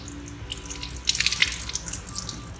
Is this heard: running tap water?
yes